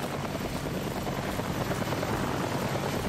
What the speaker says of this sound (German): Der Hubschrauber kommt schon.